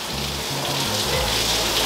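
Heavy rain pours outdoors on a flooding street in York, England, a loud steady hiss of water drumming on surfaces with no break, close and dense throughout.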